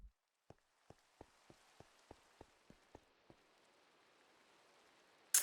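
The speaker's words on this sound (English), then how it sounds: "Sounds like it's raining." Rain falling in the video game Minecraft: a faint, steady hiss in the background, with a run of about ten soft, evenly spaced clicks early on over a quiet scene.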